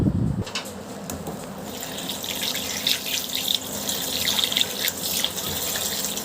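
Tap water runs over bottle gourd greens as they are washed in a sink, a steady close splashing gush with rustling leaves and no talking.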